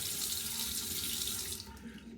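Tap water runs steadily and splashes into a small shaving travel case, close and continuous, easing off slightly near the end.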